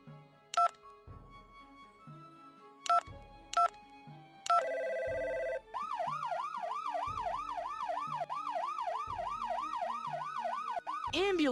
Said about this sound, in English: Ambulance has arrived.